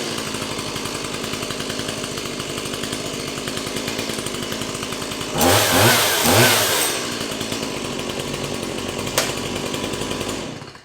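A Stihl MS 170 chainsaw runs steadily with a loud, buzzing two-stroke drone close by, then revs up sharply for about a second before settling back to a constant idle-to-high whine.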